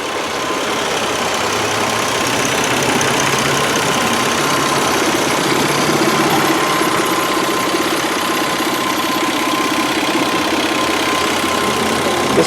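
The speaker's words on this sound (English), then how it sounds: "let you guys just listen to this engine as it purrs along" A 2001 Saturn LW300 wagon engine idles quietly and steadily at close range, a smooth continuous hum with a faint tonal whine running the full length and no voices.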